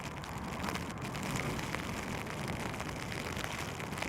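Soft, continuous patter of rain falling on an outdoor polocrosse pitch, an even hiss of drops with low rumbling wind underneath throughout.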